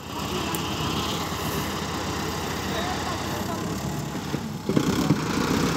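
A Kubota MU 5502 50 HP tractor engine running steadily during a demo drive, a continuous low rumble that stays even throughout, with a brief knocking or clatter near the end.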